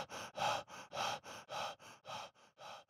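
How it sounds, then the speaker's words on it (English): Heavy breathing layer for low player health in an FPS video game: a series of about ten loud, rhythmic gasping breaths, close and alone, alternating stronger and weaker inhales and exhales. "As the player's health diminishes, a heavy breathing layer is mixed in using a real-time parameter control for the player's health."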